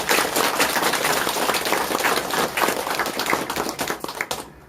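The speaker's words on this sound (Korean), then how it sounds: "응원과 격려의 박수, 큰 박수 한번 부탁드리겠습니다." Dense applause from a crowd at a business policy briefing, steady and loud for about four seconds before tapering off at the end.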